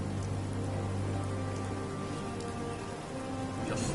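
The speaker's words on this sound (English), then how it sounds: "Just thinking how wonderful it'd be to get out of this infernal rain." Rain pours steadily in Fallout 4, a dense even hiss of drops striking surfaces that stays loud and unbroken from start to finish, with no voices.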